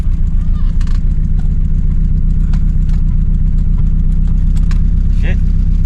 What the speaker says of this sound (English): it's running like 3-cylinder